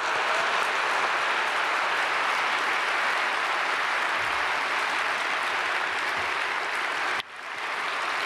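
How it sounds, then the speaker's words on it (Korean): Steady, dense applause from a large church congregation at Myungsung Church welcoming Pastor Kim Byung-sam to the pulpit during a Sunday worship service, continuous and loud for about seven seconds before cutting off sharply. "박수로 축복하며 받겠습니다."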